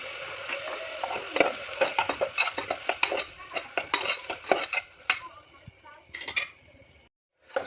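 Onions sauté in a pan for tomato rice, with quick metal spoon scrapes and clinks over a soft sizzle, coming in an uneven, busy rhythm and ending in a brief quiet gap.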